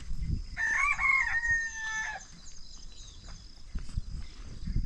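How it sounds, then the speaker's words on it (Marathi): A rooster on a farm gives one clear crow near the start, followed by scattered softer clucking and farmyard noise, at moderate distance. "कोंबड्यांचा बघा कसला आवाज चाललाय."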